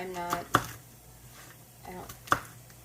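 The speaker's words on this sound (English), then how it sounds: "Chop up the pecans." Pecans are chopped with a knife on a cutting board, giving two sharp, close knocks about two seconds apart with soft cutting sounds in between; someone speaks quietly at the same time.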